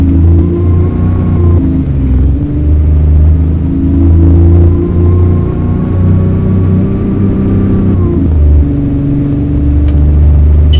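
A bus on route 157 to West Croydon in a Roblox game drives with a loud, steady engine drone that rises and falls as it changes speed. The sound continues throughout with no talk.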